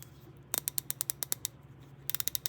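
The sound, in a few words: older Mac ratchet clicking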